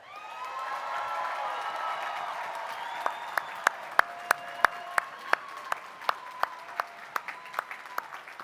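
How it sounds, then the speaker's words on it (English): An audience at a college commencement applauds the graduating class, starting with full clapping and cheering voices that thin out into a scattering of loud, separate claps. "Now let's give the class of 2025 one more round of applause."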